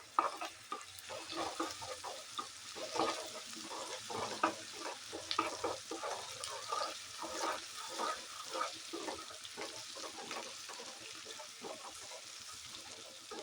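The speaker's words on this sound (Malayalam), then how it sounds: "ഇഞ്ചി വെളുത്തുള്ളിൻ്റെ പച്ച മണം മാറണം, അതുവരെ ഒന്ന് വഴറ്റണം." Ginger and garlic paste sautéed in a pan while vegetable pulao is cooked, gentle repeated stirring strokes over a low, steady sizzle, fairly quiet with no voices.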